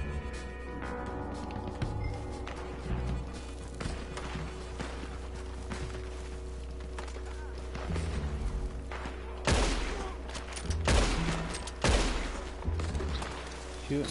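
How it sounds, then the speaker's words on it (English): Gunfire in the online western video game Red Dead Online, a sustained volley of shots over a steady game ambience, with louder, sharper bursts clustering near the end. "Shooting someone in the back is not pretty, but it has to be done."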